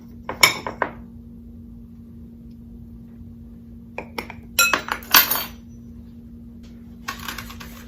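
Sweet potato bundt cake batter being mixed in a bowl, with short bursts of utensil clinks and scrapes against the bowl separated by quiet pauses.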